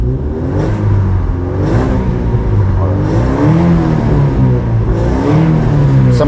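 An Opel Blazer engine idles loud and close, revved repeatedly in short pulses from inside the cabin, its pitch rising and falling with each blip of the throttle.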